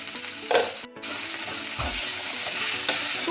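Green tomato, broad beans and eggplant frying in a pan for a vegetarian chachchari, with steady sizzling and a few stirring scrapes and clinks of a utensil, close and moderately loud.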